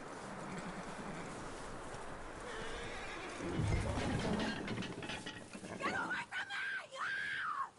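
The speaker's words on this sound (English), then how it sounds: "That looks like a decent horse." A horse in the Red Dead Redemption video game whinnies several times in shrill, wavering calls, with hooves clip-clopping and other game sounds close by underneath.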